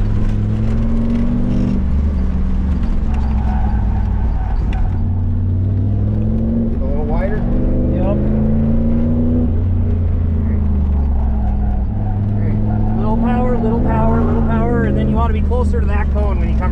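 A Pontiac Firebird accelerates on an autocross course, its engine rumbling loud and close through shifting revs, with a person talking over it much of the time.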